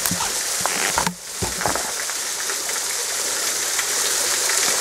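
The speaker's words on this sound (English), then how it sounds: "This occasion, are these waterfalls." Waterfalls pouring steadily beside a loop bike route near Okawara Station, a dense continuous rushing wash close by with a brief dip around one second.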